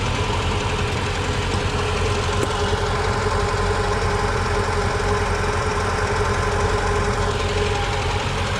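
A vintage 1968 BMW 1602 engine runs steadily at a rough, knocking idle, loud and close throughout, with a constant low rumble and no voices.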